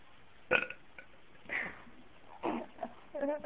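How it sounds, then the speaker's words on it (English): Several burps forced out on command, loud and close with uneven gaps between them, the last one drawn out and rattling, with little else audible around them. "Now you're gonna make me burp."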